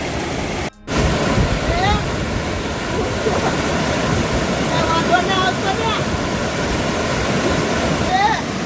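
Steady, loud rush of falling water fills the whole clip, broad and continuous, with a brief dropout near the start and faint voices buried underneath.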